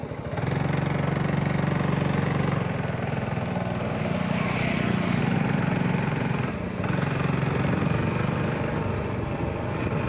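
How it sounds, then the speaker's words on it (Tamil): A new vehicle's engine runs steadily as it sets off, a close continuous mid-pitched hum with slight rises and dips over about ten seconds. "இது புது வண்டி, ரொம்ப ஸ்பீடு ஓட்டக்கூடாது"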